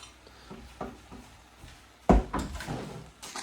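Kitchen cupboard door banged open and shut, a few hollow wooden knocks followed by one hard slam, close by and loud against a quiet room.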